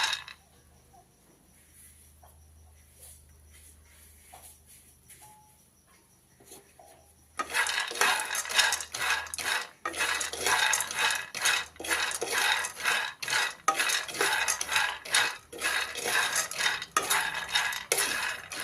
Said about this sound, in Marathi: त्याच्यामध्येच आपण शेंगदाणे भाजून घेऊया